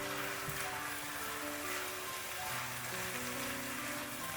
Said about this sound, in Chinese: 再将红椒丝、空心菜倒进来，开大火快速的翻炒均匀